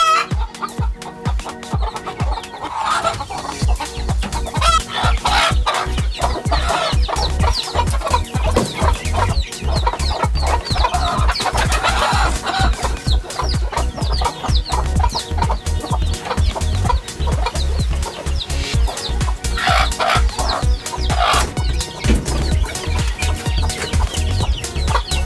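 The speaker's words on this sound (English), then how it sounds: "So I decided to bring in new chicks." Young chicks about six to seven weeks old cluck and cheep steadily in a brooder house in Ghana, a dense, loud flock chatter with occasional wing flaps that continues throughout.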